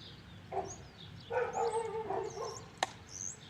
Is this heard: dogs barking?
yes